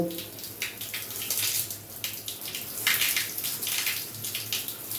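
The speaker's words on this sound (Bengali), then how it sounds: "তাহলে এই অন করে দিয়েছি, জল পড়ছে।" Water runs steadily from a tap during repair of a water heater, a continuous close splashing and hissing with faint irregular spatters.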